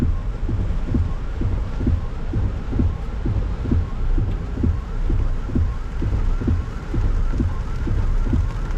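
Steady rain patters continuously on a car driving through flooding in Macau, with a regular thumping beat running underneath throughout; no speech.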